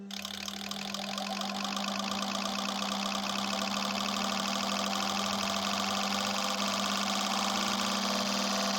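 Loud, sustained engine roar from the VR6 in a VW R36 held at steady high revs during an acceleration test, with a strong constant hum and dense rattling mechanical texture throughout, no talk.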